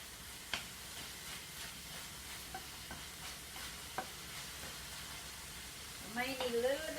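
Mushrooms frying in avocado oil in a pan make a soft, steady sizzle with occasional stirring clicks, faint and close, and a brief burst of voice near the end.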